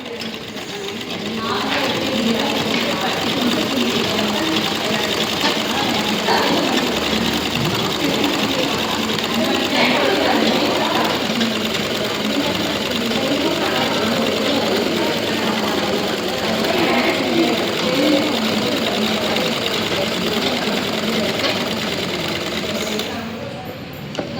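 An electric sewing machine runs in long, steady bursts while stitching a blouse hem folded to 1.5 inches, its fast needle chatter close and loud with brief pauses between runs.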